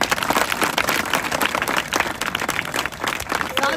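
A group claps loudly and continuously for a runner finishing a 1600 metre Indian Army running practice at a physical training academy; the dense clapping sounds close and energetic throughout.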